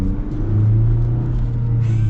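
A 2024 Ford Ranger XLT pickup accelerates, its engine a loud, steady low rumble heard from inside the cab, rising slightly toward the end, with no speech.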